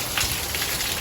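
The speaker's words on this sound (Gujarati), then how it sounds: "સુરતમાં વરસાદ પડે છે કાલ રાતનો, હજી પડે છે" Heavy rain falling steadily in Surat after pouring all night, a dense, continuous hiss of drops spattering on surfaces with no one speaking.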